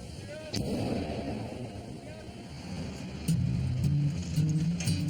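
Heavy pile driver hammering a steel pile into place for the Oakland Bay Bridge, with repeated booming impacts over a steady roar of machinery. The blows pound on continuously and grow louder toward the end.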